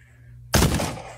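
Single sharp gunshot from the VR shooter game Pavlov. A sudden loud crack after a quiet moment, with a short reverberant tail.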